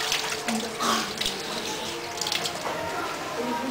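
Water runs steadily from a kitchen tap while hands are washed, a continuous close splashing stream at moderate volume with small shifts as the hands move under it.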